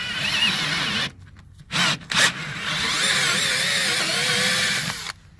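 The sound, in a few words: drill boring holes through aluminum under boat decking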